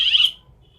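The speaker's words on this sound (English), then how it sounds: "It's moving and the alarm is blinking, it's sounding." Motorized gate controller (LW370) alarm giving a short, loud high-pitched electronic beep at close range, then cutting off into near silence with a faint lingering tone.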